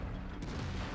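A tank gun fires in World of Tanks gameplay, a single heavy boom with dense rumbling blast filling the short moment, loud and close.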